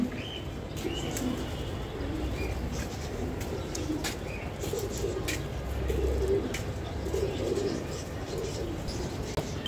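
Racing pigeons in a loft give soft, low, repeated coos, with light rustling and small scattered noises around them. The sound is steady and moderately faint throughout.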